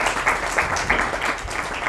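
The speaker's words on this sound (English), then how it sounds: "I'd like to give a big round of applause" An audience claps in welcome for a speaker at a Krishna Janmashtami gathering, a short burst of steady applause at moderate loudness with no talk over it.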